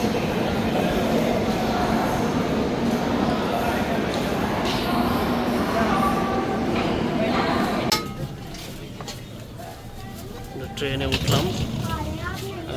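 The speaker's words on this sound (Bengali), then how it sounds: "আমাদের লোকাল ট্রেন ছাড়া শুরু করছে হরিদ্বারের ট্রেন" A local passenger train to Haridwar rumbles along with rhythmic clattering and metallic clinks, loud and close, while people talk in the background.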